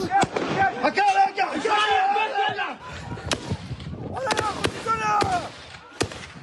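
Sharp gunshot cracks ring out several times over excited crowd voices and shouting, loud and nearby, spaced irregularly.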